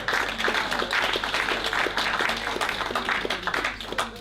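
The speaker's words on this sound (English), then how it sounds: "Please give her a round of applause." Audience applause in a hall, dense sustained clapping from a sizable crowd at fairly close range, steady throughout with a low hum underneath.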